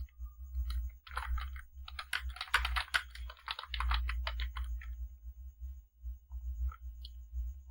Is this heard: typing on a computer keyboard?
yes